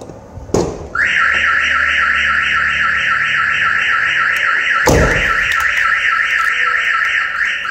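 A Mercedes Vito van's fitted aftermarket alarm goes off loud and close when the front door is opened, a continuous warbling electronic siren sounding alone after a thump, with another sharp knock partway through.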